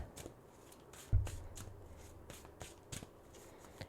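A deck of pick-a-card reading cards is shuffled by hand, quiet riffling and flicking with a few sharper snaps and taps spread across the clip, close and soft in a still room.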